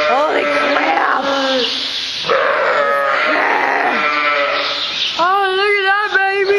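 Sheep bleat loudly and repeatedly inside a sheep barn, close wavering cries overlapping one another, with a few grunts between calls.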